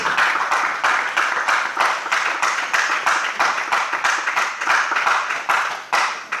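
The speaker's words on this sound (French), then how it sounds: "On acclame pour la parole du Seigneur." Church congregation clapping together at a worship service, a steady rhythmic applause of many hands with regular pulsing beats, loud and sustained for several seconds.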